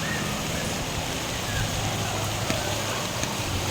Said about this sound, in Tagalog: Tuloy-tuloy pang ulan mga ka-idol.